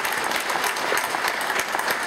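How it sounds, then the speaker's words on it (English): A church congregation applauds together, a steady dense wash of clapping hands that fills the room without break, with no voices standing out. "I'd just like to give them a round of applause."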